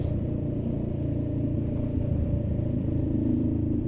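Road traffic rumbles past up close, a steady low drone of car engines mixed with clattering motorbikes weaving through, continuous and fairly loud with no pauses.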